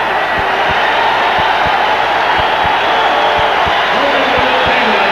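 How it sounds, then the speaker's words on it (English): Arena crowd at the Forum in Los Angeles gives Kareem Abdul-Jabbar a hand during a 1981 Lakers–Kings basketball game, a steady broad wash of applause and murmuring with sharp dribble-like thumps beneath it. "Crowd giving Jabbar a little hand."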